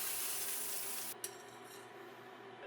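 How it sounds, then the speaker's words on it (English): A steady, gentle sizzle of portobello mushrooms frying in a pan, with a soft clink or scrape of a utensil partway through. "Turn them over and continue pan frying for another 5 minutes or until golden"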